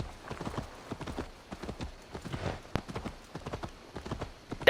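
Horse hooves clip-clop steadily at a walking pace in Assassin's Creed Valhalla, a rhythmic run of close, distinct hoofbeats with no talk over them.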